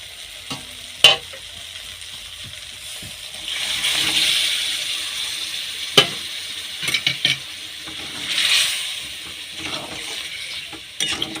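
Potato and pointed gourd curry sizzles softly in spiced oil, with a gentle frying hiss, occasional stirring scrapes and a few sharp clinks from a utensil against the pan.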